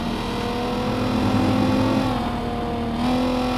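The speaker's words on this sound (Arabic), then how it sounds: "صوت المحرك فيها مسموع بالإضافة للغيارات، يعني بسمع حتى صوت الغيارات" Car engine in the Watch Dogs Legion video game, an older manual-gearbox car, droning steadily at close range with a rising rev and shifts in pitch, running alone without talk.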